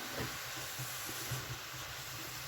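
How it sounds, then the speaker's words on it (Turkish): A steady, hissing sizzle of mushrooms frying in a hot pan on a stove turned up to high heat continues throughout, with faint low clatter underneath. "Bu şekilde mantarlarımı güzelce kızartacağım"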